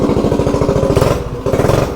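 A budget stage 3 small engine, its carburetor freshly rejetted richer with a bigger main jet, revs loudly and up close with a rapid, throbbing exhaust pulse and two quick throttle surges.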